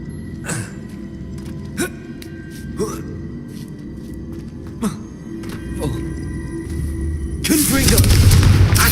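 Repeated Confringo fire-spell blasts in the Hogwarts Legacy video game, several sharp booming hits spaced a second or so apart, then a louder roaring burst of explosions at the end.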